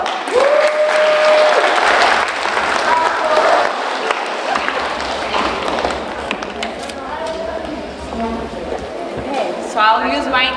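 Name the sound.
audience applause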